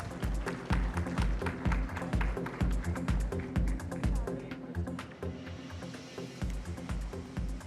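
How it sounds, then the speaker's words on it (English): An audience at an industry panel event claps in a rapid run of crisp hand claps, moderately close. The clapping thins out briefly midway before picking up again. "huge round of applause"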